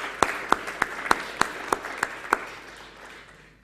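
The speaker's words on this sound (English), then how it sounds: "can we just give them a big round of applause for all their hard work?" Sparse applause at a Fedora developer meetup, about nine separate sharp claps in an even rhythm that fade out, close by and fairly loud, with no voices.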